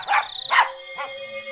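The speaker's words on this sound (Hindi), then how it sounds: "वो उसकी तरफ देखकर भौंकने लगता है" A dog named Tuffy barks at night, three sharp, close barks spaced about half a second apart, with a faint tonal hum beneath and no one talking.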